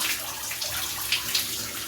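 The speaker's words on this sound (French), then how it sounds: "On va d'abord commencer par tout rincer." Water runs continuously while hair is rinsed, a close, steady splashing flow with small bursts where it hits the head, and no speech.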